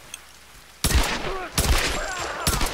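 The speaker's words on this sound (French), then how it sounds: "Même les bruits du flingue, on entend bien l'écho de la balle qui résonne." Gunfire in the video game Tomb Raider, three loud booming shots spaced about a second apart, each followed by a ringing echo that trails off before the next.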